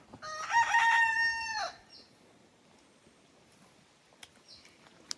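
A rooster crows loudly and close by near a treehouse in Jamaica, one long call followed by quiet background with faint bird chirps and a couple of soft knocks.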